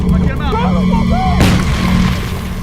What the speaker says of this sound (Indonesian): untuk membuntui cabang terowongan ini dengan sebuah granat